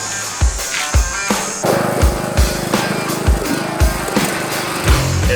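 Loud, close engine drone from a ride-on lawn mower being driven, with regular low thumps and bumps rolling through the steady running noise.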